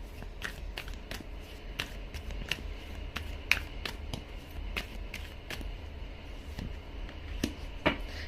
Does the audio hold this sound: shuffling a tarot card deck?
yes